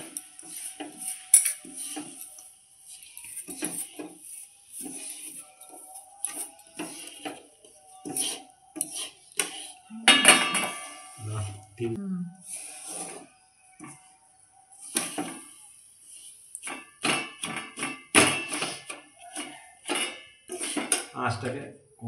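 Sesame seeds and roasted rice flour being mixed into jaggery in a pan for til pitha, with a spoon repeatedly scraping and clinking against the pan in irregular bursts, close and moderately loud.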